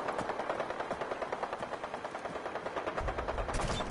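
Rapid gunfire rattles in a video game, a fast steady stream of close shots lasting several seconds with a heavier burst near the end, no talking.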